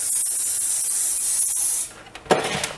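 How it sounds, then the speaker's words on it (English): A steady hiss of aerosol cooking spray onto a sheet pan for nearly two seconds, close and fairly loud, then a few short bursts. "just take the pan and spray it with cooking"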